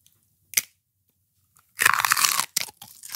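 Celery is crunched and chewed in bursts: a short bite, then a long loud crunching stretch and a few quicker crunches, close to the listener with no talking.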